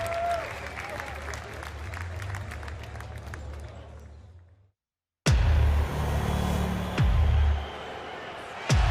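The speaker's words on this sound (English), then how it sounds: "Give these ladies a round of applause as they leave the stage" Crowd applause at a UFC event with sparse claps at first, then a short silence before louder, fuller crowd noise and cheering return. Some talk runs underneath.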